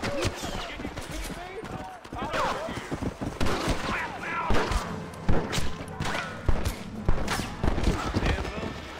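Dense bursts of rapid gunfire and impacts crackle throughout a Red Dead Redemption gang war, with a voice talking over the shooting.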